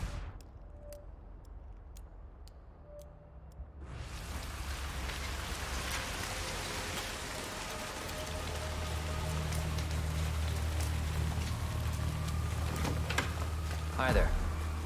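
Rain in the video game Hitman 3, a steady dense patter that begins abruptly after a quiet opening and continues close and loud, with voices talking over it.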